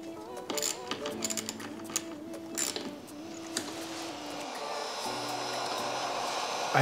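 A heat gun or hair dryer heats a part for an electric car conversion, a steady blowing whir rising in the second half, with clicks and handling clatter early on.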